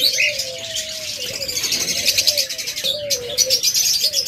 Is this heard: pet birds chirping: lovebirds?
yes